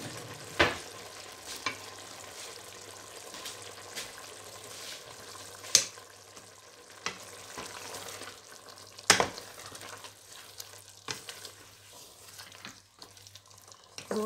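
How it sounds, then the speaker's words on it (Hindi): Meat with tomato and about two spoons of biryani masala fried in a pot for chicken biryani, a quiet steady sizzle with occasional sharp spoon knocks and scrapes against the pot, fairly faint and without speech. "अब इसको हमने भूनना है अच्छी तरह।"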